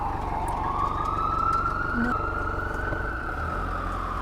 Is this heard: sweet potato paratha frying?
no